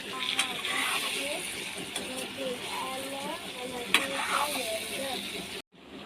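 Ridge gourd is stirred into cooked chicken in a pan: a steady sizzle with scraping and clattering from the utensil, close up, cut off sharply near the end.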